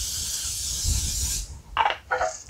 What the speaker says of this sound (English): I'm going to give this a good spray.